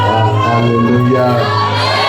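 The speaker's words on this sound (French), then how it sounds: "Tu peux encore pousser des cris de joie." Church congregation shouting and cheering for joy, a loud continuous crowd roar with whoops and raised voices filling the space throughout.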